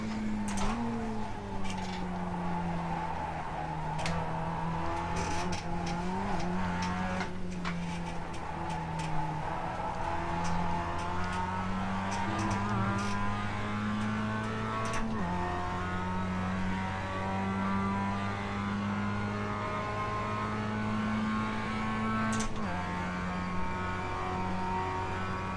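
Mazda MX-5 race car lapping Sebring in a racing video game, its engine droning steadily loud with rising and falling revs through gear changes and occasional tyre squeal, with no talking.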